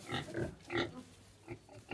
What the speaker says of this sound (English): There is Mama Pig.